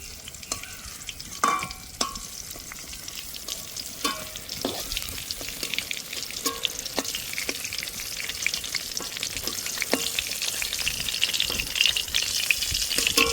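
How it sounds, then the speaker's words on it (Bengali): Pointed gourd (potol) frying in hot oil with a steady close sizzle, broken by scattered scrapes and stirring knocks of a spatula, growing slightly louder toward the end. "পটলগুলো ভাজা হয়ে গেছে, এখন তুলে নিচ্ছি।"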